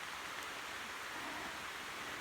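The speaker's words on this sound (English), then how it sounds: "Just walking in the rain," Steady, faint rain hisses evenly on a backpacking trip in Dolly Sods, West Virginia, a soft unbroken wash of droplets with no voices.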